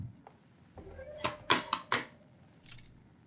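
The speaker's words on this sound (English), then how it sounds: "Oh, I hear my cat getting into things." A pet cat meows softly and knocks about indoors, with a few sharp clattering bumps and taps in quick succession and a faint voice underneath.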